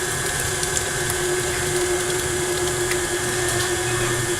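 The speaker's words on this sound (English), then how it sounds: "we want to turn the mixer a little bit higher because we hear it struggling" Electric mixer running steadily as it mixes thick chocolate cupcake batter, a continuous whirring hum with a strained motor tone, close and fairly loud throughout with no talking.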